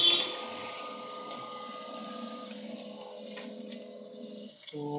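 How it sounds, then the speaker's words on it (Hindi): A laser printer runs off a demo test page, giving a steady mechanical whir with faint clicks and a change in tone near the end as the page feeds out. The machine has a fault that leaves dots and horizontal lines on prints. "अभी डेमो प्रिंट निकाल रहे हैं यहाँ पे, देखते हैं टेस्ट पेज कैसा आ रहा है इसका क्वालिटी।"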